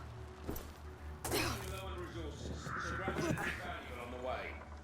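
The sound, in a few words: crows cawing in video game A Plague Tale: Requiem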